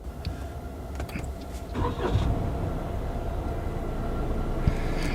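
A Toyota Corolla Touring's 1500cc three-cylinder petrol engine starts with a short crank and settles into a smooth, mild, steady hum, recorded close with no talking.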